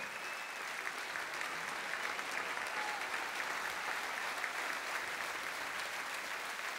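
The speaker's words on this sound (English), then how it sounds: "While we have those hands clapping, let's keep them going." Steady, even applause from a concert audience at a show in Castlebar, a broad continuous clapping that holds level throughout, heard from a distance and fairly soft.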